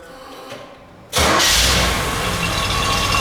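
A 1968 Chevrolet Camaro convertible's V8 cranks and fires after a quiet second, catching abruptly into a loud, steady, close-up idle that keeps running to the end.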